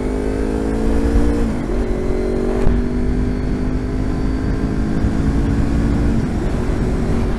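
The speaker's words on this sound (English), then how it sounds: "I'm never going to get tired of that exhaust." A motorcycle exhaust rumbles loud and close, holding a steady throaty drone with a brief dip and rise in revs early on, and no voices.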